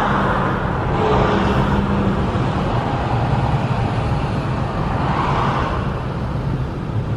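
Steady, loud rumble of slow-moving car and truck traffic crossing the MacKay Bridge over Halifax Harbour in Nova Scotia, heard from inside a vehicle, with a continuous low drone throughout.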